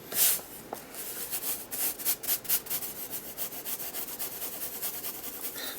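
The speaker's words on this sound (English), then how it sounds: "Where it spills out from underneath, just rub it and it turns into little like rubbery balls and you can wipe it away" Dry, steady rubbing of fingers over a mixed-media collage journal page to clear away spilled glue, a close, soft scratchy friction repeating in short strokes with no talk.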